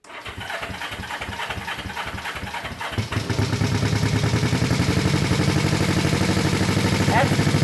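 Honda CB350 motorcycle with mufflers fitted, first cranking with a rhythmic starter churn, then catching at about three seconds and settling into a steady, loud, close idle.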